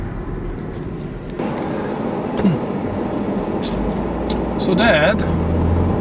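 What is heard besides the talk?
car driving on a soft gravel road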